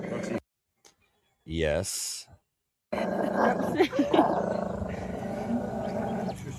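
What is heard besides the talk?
dog growling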